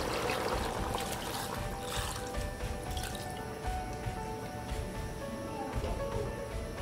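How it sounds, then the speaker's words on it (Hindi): Water pours and trickles into a pressure cooker holding beef bones for curry, close by, a steady splashing stream with dripping mixed in. "अब मैं इसमें डालूंगी पानी।"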